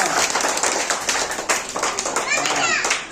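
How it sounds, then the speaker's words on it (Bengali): Children clap their hands loudly in a dense, ragged burst of overlapping claps, with children's voices chattering and calling over the applause nearby. "জোরে একটা তালি দাও আপনার জন্য।"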